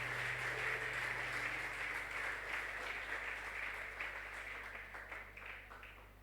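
A church congregation applauds and cheers in acclaim of Jesus, a dense, sustained wash of clapping that slowly fades, heard at some distance in a large hall.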